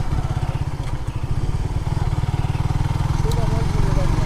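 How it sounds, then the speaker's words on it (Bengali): A Suzuki GSX-R 150 motorcycle ridden around Diabari in Uttara gives a rapid, pulsing low engine throb that runs steadily beneath a man's speech. "এখন আমি রাইড করছি সুজুকি GSX-R 150"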